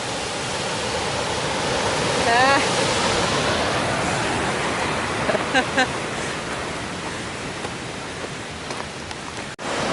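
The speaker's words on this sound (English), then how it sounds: "Cool little waterfall." A small forest waterfall pours steady rushing water continuously, full and close, with a couple of faint chirps and brief bumps over the roar.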